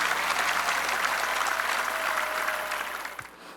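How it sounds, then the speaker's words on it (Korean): Audience applause at a church peace-unification prayer gathering at the War Memorial in Yongsan, honouring bereaved families: dense sustained clapping from a large crowd that fades out near the end. "이 나라와 민족을 지켜준 유족들에게 감사의 박수를 보냅시다"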